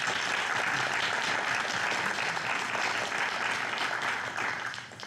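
An audience applauds after a speech at a school district meeting, with sustained, even clapping that fades out toward the end.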